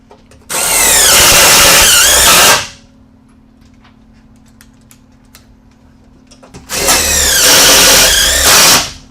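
A power drill drives Tek screws into a metal door header mounted to the jamb, two loud whirring bursts of about two seconds each separated by a quiet pause.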